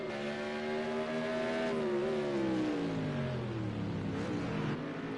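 GT1 race cars in a racing video game at the Brno circuit, engines droning steadily with pitch sliding down as they brake into a corner, then rising again, several cars close together throughout.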